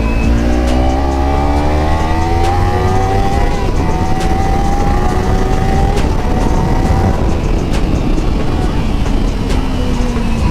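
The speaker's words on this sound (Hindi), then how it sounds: "अगर आप लोगों के पास ऑलरेडी कावासाकी निंजा 300 है तो Akrapovic is a very good upgrade in exhaust" A Kawasaki Ninja 300 motorcycle fitted with an Akrapovic exhaust, its engine note rising and falling through several loud revs, held close and continuous with no talk.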